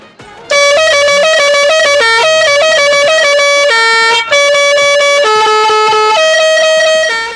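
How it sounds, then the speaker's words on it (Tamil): A loud six-pipe vehicle horn plays a continuous melodic sequence of shifting chords, with one short break near the end, bright and sustained. "வாங்க அந்த ஹார்னை செக் பண்ணி பார்க்கலாம்"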